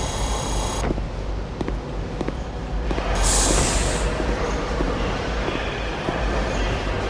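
Train in the video game Star Wars Jedi Knight II: Jedi Outcast, a steady loud rumbling roll with periodic clacks and a brief hiss of air brakes partway through, without talk.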